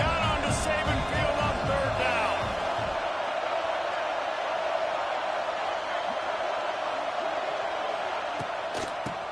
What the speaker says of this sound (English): The Tide crowd rolling noise